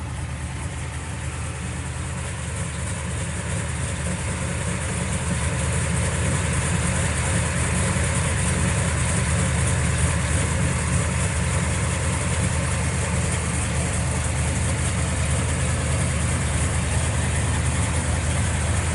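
Steady, deep idle from the original 440 V8 of a 1967 Plymouth GTX Belvedere breathing through a 3-inch exhaust, a continuous loud low rumble held close for nearly twenty seconds with no talk over it.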